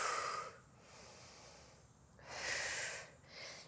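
Breathing during an at-home pilates workout, a few loud, close breaths with rushy inhales and exhales in an uneven rhythm, without talk.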